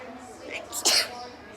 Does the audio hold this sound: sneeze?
yes